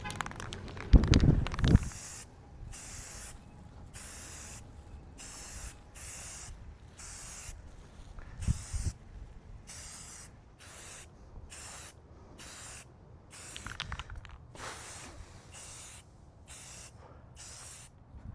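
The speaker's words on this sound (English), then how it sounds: "we're ready to put down the first coat of primer, which I'm going to shake for a little bit here before applying" A spray can of universal bonding primer rattles briefly when shaken, then gives repeated short hissing bursts in a steady rhythm as it coats old Suzuki GS750 motorcycle parts, close and moderately loud, with no talk.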